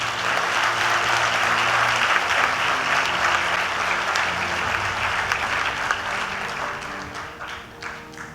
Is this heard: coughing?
no